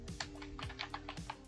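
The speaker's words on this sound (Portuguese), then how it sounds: "Vou clicar aqui embaixo na barra de pesquisa e digitar" A computer keyboard is typed on in a quick, brief run of light plastic clicks, quiet and close, with no voices.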